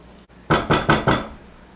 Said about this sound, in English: Just mix until everything is blended.